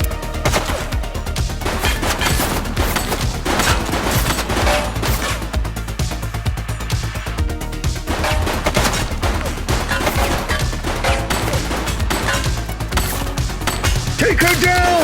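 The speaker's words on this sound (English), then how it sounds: "She's shooting!" Rapid gunfire fills a shootout in the police game The Precinct, dense bursts of shots cracking continuously for fifteen seconds, loud and close, with shouted voices mixed in.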